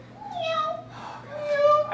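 A human voice imitates a kitten's meow, giving two drawn-out, wavering meows up close.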